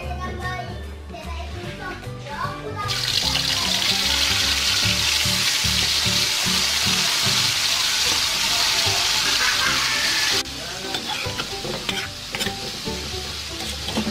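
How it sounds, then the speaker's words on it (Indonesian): Spice paste sautéed in a pan for a clam dish in coconut milk and tomato seasoning, a loud steady sizzle with stirring scrapes that swells in the middle stretch, with a voice and other chatter faintly at times. "Yuk ditumis bumbunya"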